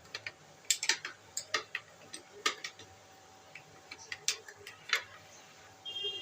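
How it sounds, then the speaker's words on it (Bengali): A spoon stirs aam panna, a mango drink with an ice cube, producing quick, light, irregular clinks and taps close by, with no talking. "সুন্দর করে নাড়িয়ে নেব সমস্ত কিছু"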